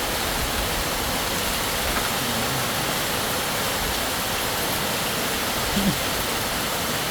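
Steady rain pours down in Tha Muang, Kanchanaburi, near the Wat Yok Krabat temple fair, a constant hissing wash of drops with no voices, one small knock near the end.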